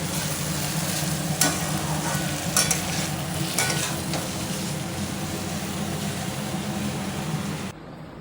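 Potato, okra and eggplant frying in a pan, a close, steady sizzle with a few sharper scraping clicks from stirring, continuing throughout without talk.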